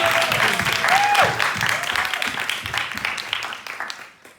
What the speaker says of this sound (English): So yeah, a round of applause.